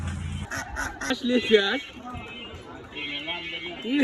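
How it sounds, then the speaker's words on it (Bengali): Ducks and chickens at a village poultry market in Nakalia let out nasal honking squawks in short bursts, mixed with busy voices talking nearby. "এটা হচ্ছে নাকাইলে বাজারের মুরগি হাটার দৃশ্য।"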